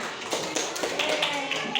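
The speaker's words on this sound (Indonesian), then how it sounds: "beri tepuk tangan Ratu sama temennya" A brief patter of classroom clapping for two students, a few light, scattered claps under a teacher's voice.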